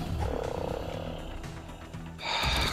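A frog croaks in the video game Ark Survival Evolved, giving a few loud, rough, gurgling calls that run together and sit over a steady drone of game ambience.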